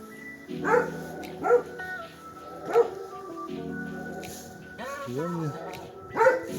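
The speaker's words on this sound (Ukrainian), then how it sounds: "Там собачка гавка якогось побачила." A dog barks several times in short, separate yips, fairly near, with a person talking between and over the barks.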